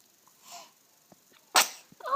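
A single sharp sneeze from a baby girl bursts out after a few soft breaths and small sounds, close and fairly loud, followed by a brief trailing noise.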